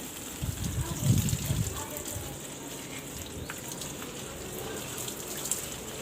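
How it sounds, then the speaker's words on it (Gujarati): Running water pours steadily onto a home garden, a continuous hiss with a heavier low gush near the start before it settles into an even flow. "હવે આપણે ગાર્ડનને થોડુંક પાણી પીવડાવી દઈશું"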